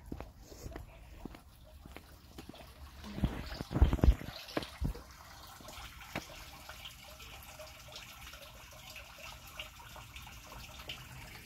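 Water running through a drainage channel in Winston Park, Canada, a steady low wash with a louder burst of splashing around the middle, heard outdoors on a cold walk.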